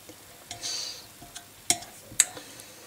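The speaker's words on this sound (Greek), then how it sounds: "Και θα ανακατέψω." A spoon stirs homemade ginger and lemon cough syrup in a pot, giving a brief swirl and then a few sharp, bright clinks against the side, close and quiet.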